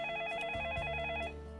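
Electronic telephone ring on a TV astrology call-in show, a steady warbling tone lasting over a second, loud and alone before cutting off.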